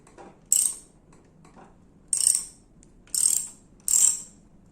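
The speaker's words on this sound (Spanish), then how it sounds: "Ahora vamos a retirar número 10, un dado, porque con una llave se nos va a complicar. Y vamos a aflojar aquí." A 10 mm socket wrench loosens a bolt on the front fork of a Yamaha FZ 16/FZ 150 during fork seal replacement, giving four short, crisp ratcheting bursts separated by quiet pauses.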